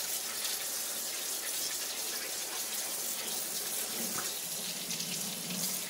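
Tap water running steadily over razor clams as they are rinsed in a sink, a continuous close splashing hiss with faint shifts as the shells move under the stream.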